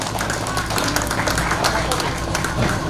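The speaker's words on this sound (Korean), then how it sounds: "박수로 환영해 주십시오." Audience applause welcoming a speaker to the stage at a departure ceremony for a reconstructed Joseon Tongsinsa envoy ship, a steady dense wash of clapping from a crowd that lasts throughout.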